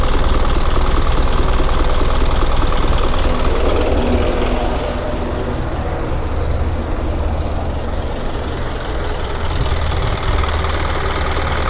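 An Isuzu NQR175 diesel truck engine idles close by, a loud, steady low rumble with a rough knocking texture that runs unbroken the whole time.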